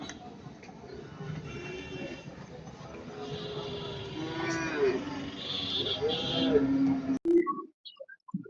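Cattle low with long, drawn-out moos at a busy village cow market beside the Sundarbans. Several calls rise over a steady murmur of crowd noise, then the scene cuts off abruptly near the end.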